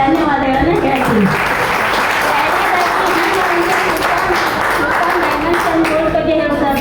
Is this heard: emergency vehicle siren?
no